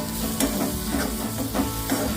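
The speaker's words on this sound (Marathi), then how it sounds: "कढईमध्ये ओले काजू टाकून घेतले का मग आपण पुन्हा ते कांद्यामध्ये परतून घ्यायचे" Fresh cashews and onions are stir-fried in a kadhai: a steady sizzle broken by rhythmic spatula scrapes about twice a second, close and clear.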